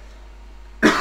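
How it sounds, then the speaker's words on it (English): A single short cough from a man indoors, sudden and close after near silence. "have a little cough."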